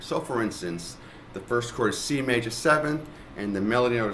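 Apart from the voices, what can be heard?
No everyday noises stand out.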